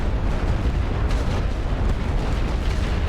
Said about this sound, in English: I'm just gonna start throwing artillery this direction.